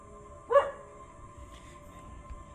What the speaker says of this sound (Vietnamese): Ở đây có con chó.